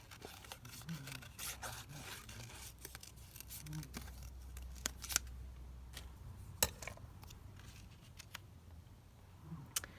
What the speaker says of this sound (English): So I'm just going to cut this rose and just see if we might have this somewhere.